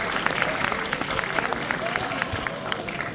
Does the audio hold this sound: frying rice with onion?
no